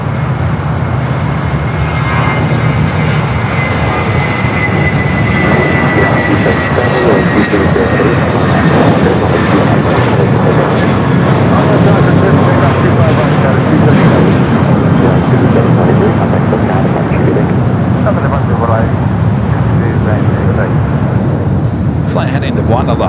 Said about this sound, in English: Arrival at 10:14 for United Flight 2434. It's a 31-year-old 757 at 200.